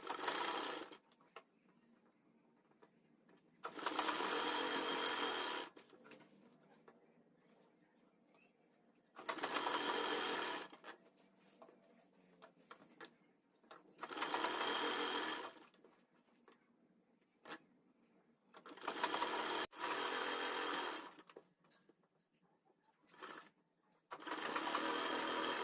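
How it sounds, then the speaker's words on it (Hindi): A sewing machine fitted with a single foot stitches piping onto the lower part of a dress, running in four or five loud sustained bursts with quiet pauses between them and no talking. "तो चलिए अपनी सिलाई लगाना शुरू करते हैं।"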